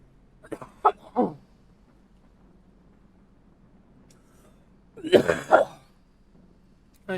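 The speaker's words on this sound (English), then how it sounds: "I'm sorry about coughing in y'all's ears." A person coughs in two clusters of short, harsh coughs, about three at first and then another burst several seconds later, close to the microphone with quiet pauses between them.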